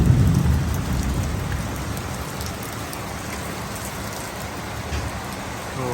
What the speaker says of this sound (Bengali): আর এত সুন্দর ছাদে বৃষ্টি ভেজা দেখতে অস্থির লাগছে।